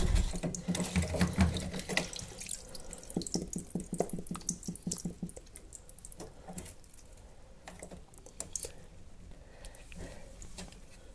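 Water drains from the front filter of a washing machine, trickling and splashing loudly at first, then thinning to a quieter run of irregular drips.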